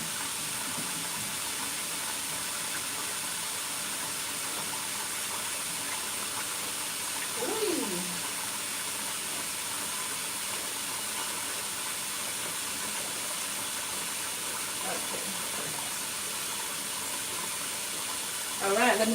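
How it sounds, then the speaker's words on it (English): Kitchen tap water runs from a faucet while soup is being made, a steady, fairly soft hiss of flow that continues for the whole stretch with a few faint background sounds. "I'm letting the tap water run a bit, so I can get me some hot water from the tap"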